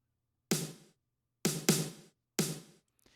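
Three quick, punchy snare hits with bright noisy decay, the last two doubled into a short roll, standing alone as a brief mini fill within an electronic music drop.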